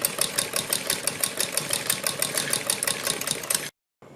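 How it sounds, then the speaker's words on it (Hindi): Sewing machine stitching a fabric neck strip, a fast steady mechanical rattle of the needle running without a break for nearly four seconds, then stopping abruptly, close and loud with no voices. "हम अपनी पट्टी पर इस तरह से सिलाई लगाएंगे"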